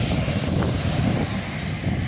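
A large airliner's engines roar in a steady, loud drone just after it lands on Easter Island (Rapa Nui), with no voices over the noise.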